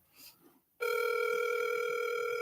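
Steady electronic telephone tone cuts in abruptly after a moment of faint murmuring and continues unbroken, loud and close, with a bright, harmonic buzz.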